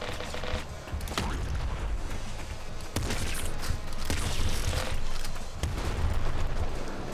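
Dense gunfire in Nuclear Throne, with rapid overlapping shots and thuds that fill the whole stretch at a steady, loud level, joined by a few sharper bursts along the way.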